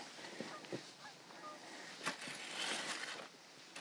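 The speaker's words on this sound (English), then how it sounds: "you're going to hear geese go over us constantly because this is their route to go south" Geese flying overhead on their southward migration route, giving several faint, scattered honks over quiet outdoor ambience.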